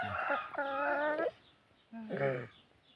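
Gamecocks at a Thai fighting-rooster gathering give harmonic, drawn-out calls in two close bursts, loud and near, with a faint voice in the background.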